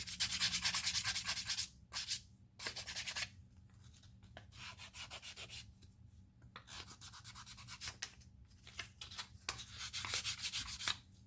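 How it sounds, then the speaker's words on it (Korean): Steady rasping of 400-grit sandpaper rubbed over a leather edge, in repeated strokes with short pauses between bursts, close and fairly loud. "400방 정도 사포로 해서"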